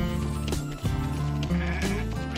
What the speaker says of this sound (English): And there's goats. There's always goats.